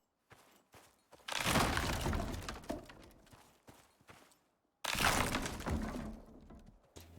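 A bear smashing a built structure in the survival game Icarus gives two long bursts of heavy crashing and splintering impacts, loud and close, separated by quieter knocks and thuds.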